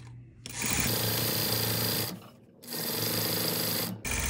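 Sewing machine stitching the edges of a fused witch hat brim, running in two close, steady bursts of rapid mechanical whirring separated by a brief pause.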